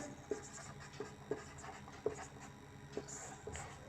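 Pen writing out a maths solution on paper, a quiet steady run of soft scratching strokes with small taps at regular intervals.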